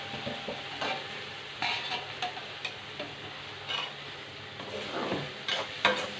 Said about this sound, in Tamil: ஒரே ஒரு கரண்டி குழம்பு மட்டும் ஊற்றிக்கிறேன்